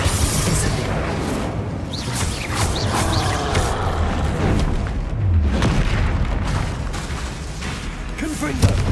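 Confringo and Incendio spell blasts go off in the Hogwarts Legacy game during a fight, a dense, loud barrage of booming impacts and crackling bursts that runs without pause.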